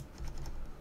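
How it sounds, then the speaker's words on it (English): A stack of game cards being shuffled at a board game table, giving a short, soft run of riffling clicks close by for under a second. "I'm trying to shuffle."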